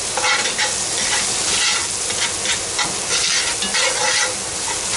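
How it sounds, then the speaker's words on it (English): Tomato paste is stirred into venison stew in a cast iron pot, giving a steady, loud sizzle and hiss with soft scraping from the stirring, close up and with no talk. "I'm going to stir in a good tablespoon of tomato paste."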